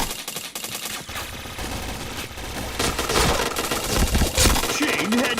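Rapid gunfire and headshot hits during a round of the shooter video game Point Blank, dense overlapping bursts of shots building in intensity, loud and continuous throughout.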